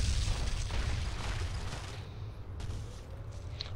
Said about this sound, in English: I wonder how hard it is to, if you can sidestep the whole bomb explosion.